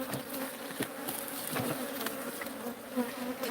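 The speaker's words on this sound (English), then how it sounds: "Let everybody come and see all these guard bees." Agitated guard bees buzz loudly at a hive in a neighborhood, a dense, steady drone with individual insects whizzing close past the microphone.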